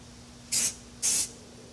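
A spray paint can puffs camo paint in two short, separate hissing bursts about half a second apart, close and crisp against near silence.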